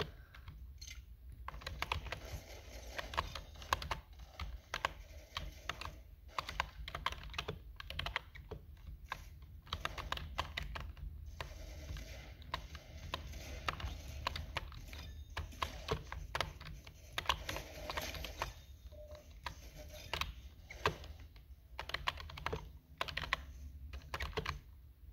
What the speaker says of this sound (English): And you're listening to satisfying keyboard.